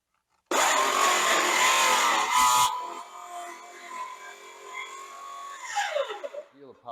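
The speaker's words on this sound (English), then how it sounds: "These little saws are so light and they have so much power" A small, light electric power saw whines loudly while cutting, running backwards during a single-oven conversion, then winds down into a lower hum and fades with a few clatters; brief speech may overlap.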